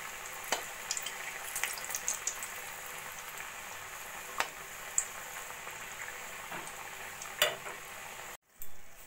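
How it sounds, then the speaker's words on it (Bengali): Mug pakon pitha cakes deep-fry in hot oil in a kadai over a medium flame. The sizzle is a steady, fairly faint crackle with scattered pops, and it breaks off for a moment near the end. "এবার আমি পিঠেগুলো আস্তে আস্তে মিডিয়াম ফ্লেমে ভেজে নেব"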